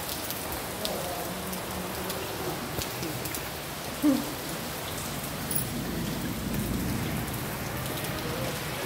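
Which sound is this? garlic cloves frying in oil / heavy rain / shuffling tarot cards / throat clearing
heavy rain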